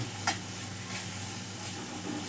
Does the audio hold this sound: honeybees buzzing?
no